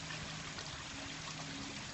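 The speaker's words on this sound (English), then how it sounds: "It's moving water, but it's very flat water." Gently moving, very flat water trickles softly in a pond water feature display at a showroom, a steady faint wash with no talk.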